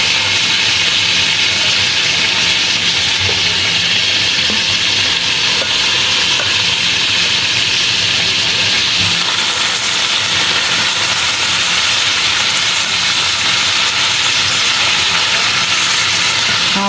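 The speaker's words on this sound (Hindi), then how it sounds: "इसी ऑयल में मेरे पास चिकन है, बॉईल किया हुआ चिकन है। इसको जस्ट नमक डाल के मैंने बॉईल कर लिया था। अब इसको फ्राई करती हूँ।" Boiled chicken frying in oil, a loud continuous hiss of spitting fat filling the whole span, steady and close with a slight shift in texture midway.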